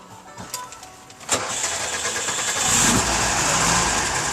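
A 1977 Volkswagen Westfalia van engine cranks briefly, then catches and settles into a steady, loud idle that swells slightly toward the end.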